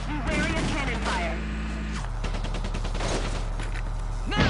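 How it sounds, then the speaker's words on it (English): Armored train cannon fire in the video game Valkyria Chronicles comes as a dense run of loud booming blasts and rattling battle noise over a steady low drone, with game effects throughout. "I see the armored train ahead. Be wary of cannon fire."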